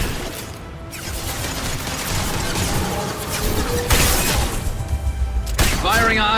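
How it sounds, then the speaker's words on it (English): Gunfire in the Mass Effect video game, a dense burst of shots and crashing impacts that stays loud and busy throughout, with a sharper volley near the end. "Firing a high-impact shot."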